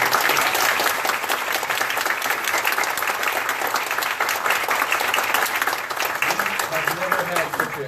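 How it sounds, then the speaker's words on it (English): Sustained applause from an audience at a gubernatorial nominee event, dense, steady clapping that fills the whole stretch with a faint voice surfacing near the end. "Can we get a big round of applause for all our candidates?"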